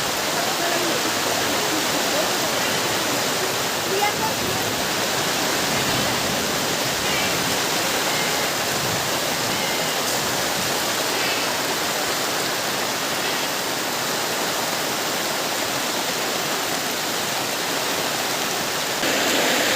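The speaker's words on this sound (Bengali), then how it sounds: "প্রচুর জোরে বৃষ্টি এসছে" Heavy rain pours outside during a downpour, a dense, even roar of rainfall that holds steady and loud for the whole stretch.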